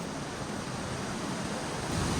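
A river swollen after heavy overnight rain rushes with a steady, broadband roar of water, constant and fairly close, with no voices present.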